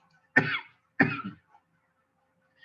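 Two sharp coughs, close and distinct, spaced about half a second apart, then quiet.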